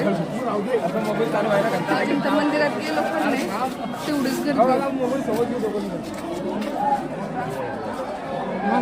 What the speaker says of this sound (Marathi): तुम्ही गर्दी पाहू शकता की ते श्रावण महिना चालू आहे त्यामुळे गर्दीचं तर काय विषयच नाही गर्दी भरपूर आहे